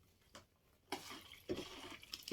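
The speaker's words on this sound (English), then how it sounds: "So I'll add more water." Water is added little by little to a homemade soap mixture, giving short soft splashy pours in two or three quiet bursts with brief pauses between.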